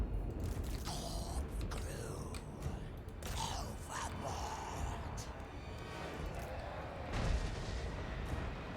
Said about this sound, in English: Alright, so they're shooting.